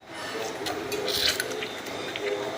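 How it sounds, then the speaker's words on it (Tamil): Soft, wet squishing of a large washed tomato being squeezed and mashed by hand, quiet and close, with a few drips, heard under a voice. "தக்காளி நல்லா கழுவி பசைஞ்சிக்கலாம்"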